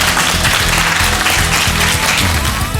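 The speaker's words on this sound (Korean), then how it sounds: "박수 부탁드립니다." Broadband applause fills an indoor TV quiz-show studio after a student is announced as the winner, steady and loud for the full stretch with a faint voice underneath.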